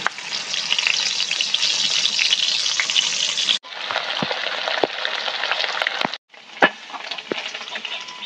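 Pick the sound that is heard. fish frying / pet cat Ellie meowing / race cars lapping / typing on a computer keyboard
fish frying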